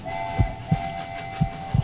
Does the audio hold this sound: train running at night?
yes